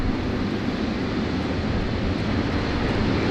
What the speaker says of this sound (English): we have the Garuda Retro A330-300 taxiing out